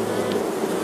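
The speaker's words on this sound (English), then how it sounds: "Shake the bees off." Honey bees shaken from a hive frame holding queen cells and royal jelly fill the air with a dense, steady, close-up buzzing hum for a brief moment.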